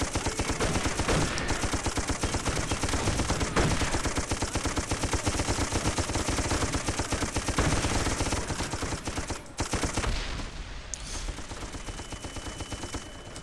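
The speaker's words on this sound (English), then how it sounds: "Give me the machine gun, quick!" Rapid machine gun fire from a war video game rattles loudly and almost continuously, dense bursts overlapping with other gunfire before briefly dropping off near the end.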